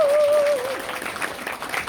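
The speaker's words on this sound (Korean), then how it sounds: "다시 한번 큰 박수 부탁드리겠습니다" Audience clapping at a business presentation on digital wearable products, a steady crowd patter of moderate loudness that follows a brief sustained tone at the very start.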